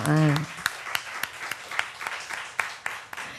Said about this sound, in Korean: 두 분 다 박수 좀 쳐주세요.